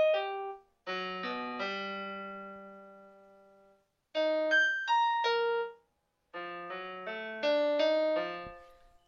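Raw electronic tones from a plant-sensing music device in research mode ring out as sparse, bell-like synthetic notes in short clusters separated by pauses, clear and alone with no talking.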